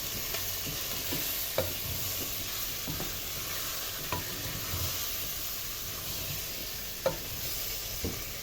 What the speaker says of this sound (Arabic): انزل بقى بالطماطم